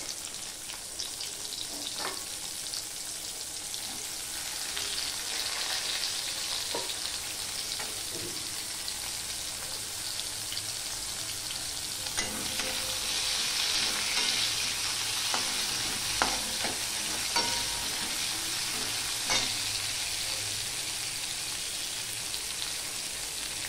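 Onions fry in a pan with black cumin for a prawn curry, giving a continuous hiss that holds steady. Faint scattered taps and stirring sounds come and go beneath it.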